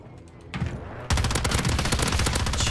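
Rapid automatic gunfire in the online shooter Warzone, loud and dense, with a short burst near the start and then a sustained barrage of shots that runs without pause.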